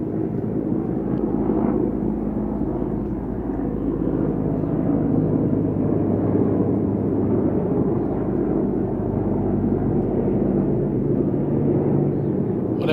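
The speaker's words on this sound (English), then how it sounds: "Sounds like a big helicopter." A large helicopter flying low overhead, heard as a steady, loud, deep rumbling drone with a continuous low throb that holds level throughout, with no voices over it.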